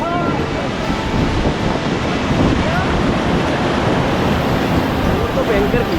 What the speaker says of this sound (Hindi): तो इस रैपिड का नाम है गोल्फ कोर्स।